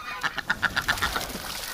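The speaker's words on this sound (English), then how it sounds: "Oh, ducks." Ducks quack in a winter setting near a freshwater tub: a quick rhythmic run of about eight clear, moderately loud quacks that trails off, with no talking.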